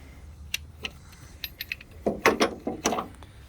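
A small Snap-on ratchet loosening a 15mm bolt on the 3.4L engine of a 2006 Pontiac Torrent, with scattered metallic clicks, then bursts of rapid ratcheting clatter, close and moderately loud, no talk.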